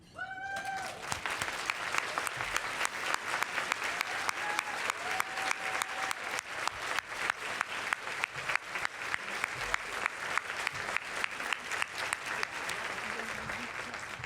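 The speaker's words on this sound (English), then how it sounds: "please stand and let us give you a round of applause" A luncheon audience at a Women's History Month event applauds retired elected officials, sustained crowd clapping with sharp distinct claps up close, while a voice speaks briefly at the start and a few tones sound.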